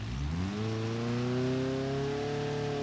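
A Tofaş Toros engine revs up in BeamNG.drive on a snowy village road, rising in pitch over about half a second and then holding a steady, loud drone with clear harmonic whine.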